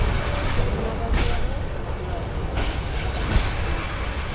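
Train arriving at Dhaka Airport railway station at night, a loud, steady rumbling roar of rolling carriages that swells and holds throughout, with people talking over it.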